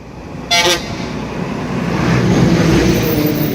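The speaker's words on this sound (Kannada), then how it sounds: "ಗಾಡಿಗಳು ಹೋಗ್ತಾ ಇದ್ದರೆ ಶೇಕ್ ಆಗ್ತಾ ಇದೆ ಬ್ರಿಡ್ಜ್" A short horn toot sounds early, then a steady rumble of vehicle traffic crossing the old Kalasa Bridge rises and fills the rest.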